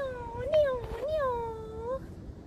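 A storyteller with children voices a drawn-out cat meow, imitating a cat in a reading of a bear family bedtime story, a clear rising and falling tone that repeats under light background voices.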